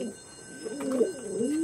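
An expensive, original Magnet pigeon coos close by in a few rolling, rising and falling phrases, clear and moderately loud, with no voices over it.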